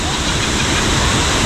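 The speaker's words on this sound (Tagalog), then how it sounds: "Okay, medyo malakas ang agos." A river swollen after rain rushes hard past close by, a loud, unbroken roar of churning water filling every moment.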